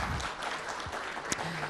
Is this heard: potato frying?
no